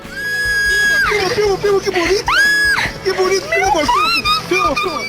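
A woman screams hysterically while being chased by a giant snake, loud piercing rising and falling shrieks in repeated bursts, close and shrill, with other voices and commotion mixed underneath.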